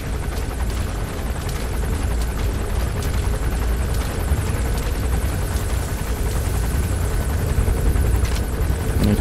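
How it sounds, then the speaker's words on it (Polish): A helicopter in the video game Metal Gear Solid V: The Phantom Pain makes a loud, continuous rotor thrum with steady engine whine, holding at an even level throughout. "to powinien sobie poradzić dosyć łatwo z tym helikopterem"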